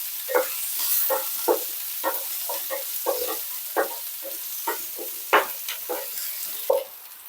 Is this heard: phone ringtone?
no